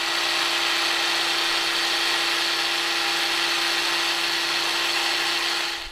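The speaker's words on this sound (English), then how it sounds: "Here we have the Bosch running on the 4 amp hour battery." A cordless Bosch power tool rated around 10,000 RPM runs steadily on a 4 Ah battery, giving a loud, continuous high-pitched whine with no change in speed, and it winds down at the very end.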